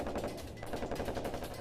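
Automatic gunfire in a firefight in Afghanistan, rapid rattling bursts heard faintly and muffled in a dense continuous stream.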